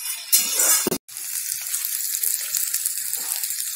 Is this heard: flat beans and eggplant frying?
yes